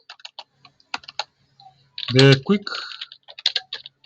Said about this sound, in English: So what I'm going to do is I'm going to start typing here.